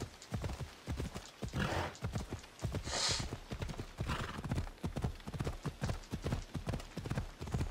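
A horse in Assassin's Creed Odyssey gallops uphill, hooves beating a fast, steady rhythm close up, with a brief whinny partway through and no talking.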